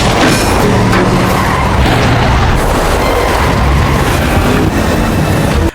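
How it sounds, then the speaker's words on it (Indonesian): A car skidding as the driver swerves hard in a film action scene, a loud, continuous roar of tires and engine with booming impacts layered throughout, no speech. "mobil yang dikendarai nomada dan Lena, memaksa Lena membanting setir dengan keras."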